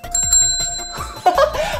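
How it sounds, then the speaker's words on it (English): A bell rings at a dinosaur museum exhibition, a clear sustained ringing tone lasting about a second before a brighter jingle, with faint chuckling in the background. "A bell! Listen."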